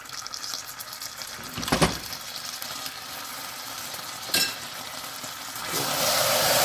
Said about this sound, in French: Donc là, on laisse caraméliser encore.